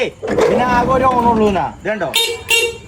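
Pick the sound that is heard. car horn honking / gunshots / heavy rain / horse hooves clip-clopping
car horn honking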